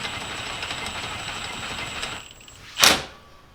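A 3/8 stubby ratchet with a half-inch adapter spins a 32mm socket on a car's front wheel bearing nut, producing rapid steady clicking that stops, then a single brief louder scrape.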